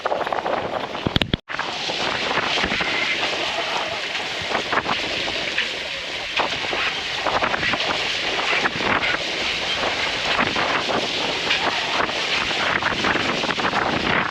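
Strong wind at sea, about 18 knots gusting 20, roars steadily across the microphone, a broad rushing noise with gusty buffeting and water sounds beneath, after a brief cut near the start.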